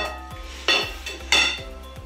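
Veal being mixed with a glass of oil in a pot, a spoon clinking and scraping against the metal in a slow regular rhythm, with two louder rattling clatters among the strokes, close and without talk.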